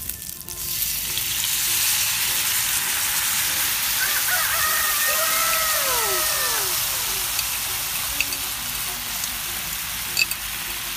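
Rabbit pieces fry in a pan with homemade teriyaki sauce, giving a loud, steady sizzle throughout, with occasional faint clinks and brief squeaky tonal sounds midway.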